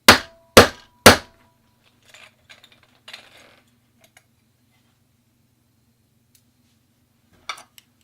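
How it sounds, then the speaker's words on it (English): Three sharp, loud whacks of a kinetic bullet puller striking to free a 9mm bullet, evenly spaced, followed by faint rattles and clinks and one last light knock. "Grab my bullet puller and just give this guy a couple pops."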